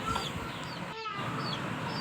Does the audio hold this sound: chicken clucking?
yes